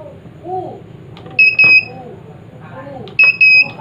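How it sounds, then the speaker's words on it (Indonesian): Two bursts of sharp electronic beeps, each a pair of high tones, ring out from a Polytron washing machine control board with an E8 error, over someone talking and faint handling noise. "dari suara bip ini kita sudah bisa menyimpulkan bahwa ini akan normal rekan-rekan."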